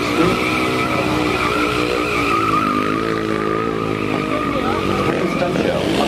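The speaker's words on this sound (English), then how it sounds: "Here, the custom-built stunt show vehicles rev their engines up to 70 miles an hour before making their high-speed entrances onto the stage" Custom-built stunt show cars at a theme park stunt show roar and skid with long tire squeals and revving engines, loud and close, with crowd or announcer noise mixed underneath.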